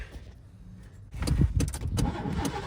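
An OBS Chevy truck's engine cranks after being primed and given starting fluid: a quiet lead-in, then a second or so of loud, uneven churning bursts from the starter and engine.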